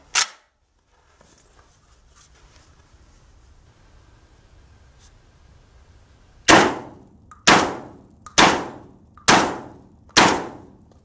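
Fiocchi 12 gauge shotgun shells fired one at a time from a JTS AK47 shotgun outdoors: one loud shot at the start, a quiet pause, then five sharp, evenly spaced blasts close to the microphone.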